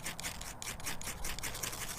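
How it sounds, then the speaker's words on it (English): A ferro rod scrapes over fatwood outdoors while someone throws sparks to start a fire, a close rasping sound made of quick repeated strokes with no one talking. "Grab my ferro rod, get over top of it, throw some sparks in there"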